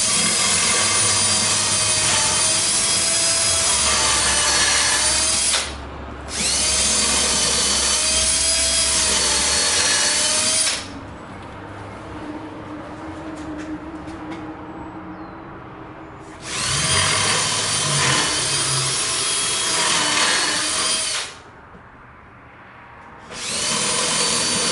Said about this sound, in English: Install those screws.